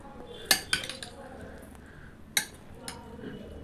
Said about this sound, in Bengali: দিয়ে আমি হাতা দিয়ে ভালো করে এটাকে নাড়িয়ে নিচ্ছি